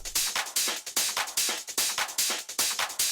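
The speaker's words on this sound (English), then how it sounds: "there is this top loop, which is kind of UK garage inspired." A bright, busy drum top loop with crisp hi-hats and shuffling percussion in a swung garage groove, repeating steadily with no voices.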